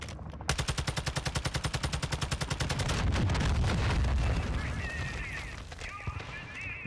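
Rapid automatic gunfire in Call of Duty DMZ: a steady burst of about three dozen close, loud shots, then a heavy roaring rumble with scattered shots and faint chirping tones fading behind it.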